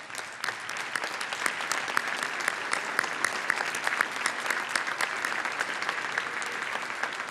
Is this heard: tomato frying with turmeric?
no